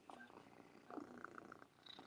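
A house cat purring close up, a soft rhythmic rumble with a few brief chirpy overtones, short and quiet with no talk.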